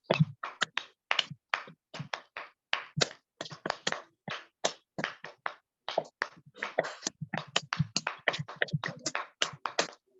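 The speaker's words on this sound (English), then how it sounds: "Listen to your own clap." Webinar participants clap their hands over an online call, with many sharp, overlapping claps in an uneven, steady stream lasting about ten seconds, fairly close and with no talking.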